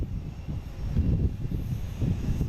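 A Delta jet airliner departs Boston for Amsterdam as a faint, low engine rumble that pulses unevenly and continues throughout.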